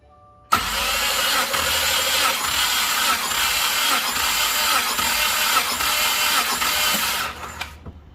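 A 2015-or-later Subaru WRX 2.0L engine cranks over during a compression test, a loud, steady churning that runs for about seven seconds with even pulsing before stopping abruptly.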